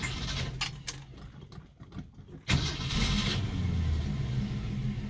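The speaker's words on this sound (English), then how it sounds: "Key's in. Pump the gas. Let's see, she's gonna fire." A 1967 Ford Mustang engine cranks briefly and catches, firing up loudly and settling into a steady, rough idle close by.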